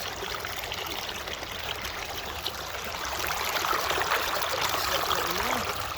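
Steady rush of river water at Arapahoe Bar, a continuous broad hiss and babble that swells slightly louder toward the end.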